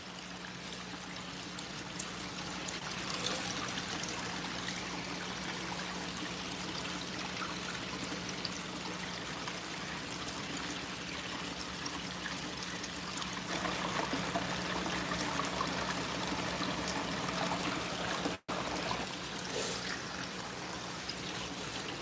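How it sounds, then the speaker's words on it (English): Water trickles steadily into a goldfish pond inside a greenhouse, a continuous soft splashing wash with a faint steady hum beneath, constant throughout with no talk. "I like the water sounds."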